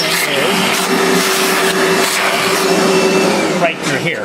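A vacuum cleaner pushed inside a Nuova Simonelli MDX coffee grinder during cleaning, its loud steady whine and rushing airflow droning close up for several seconds before the suction shifts near the end.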